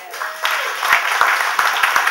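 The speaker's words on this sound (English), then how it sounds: "they deserve a round of applause" Scattered applause rises from an audience at a comedy awards show, a few distinct claps standing out over a murmur of crowd voices.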